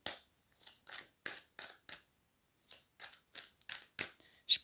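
Tarot cards are handled and laid down one by one on a table in a quiet room, giving short soft papery flicks and taps in an irregular rhythm with brief pauses between them.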